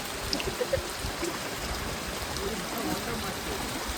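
Steady rain falls in an even, continuous wash of patter and hiss, with a few faint scattered drips standing out over the top.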